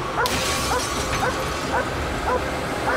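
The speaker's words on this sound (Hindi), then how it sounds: "सेज इस कार पर भौंक रही है" Sage the dog yips and barks at a parked car in quick repeated bursts, close by and fairly loud over a steady rumbling background.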